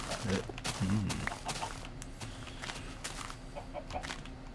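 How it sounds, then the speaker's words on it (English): A couple of short clucks come from chickens in Minecraft early on, over a steady low hum with scattered clicks and faint background noise. "Nice, beautiful day in Minecraft. Chickens abound."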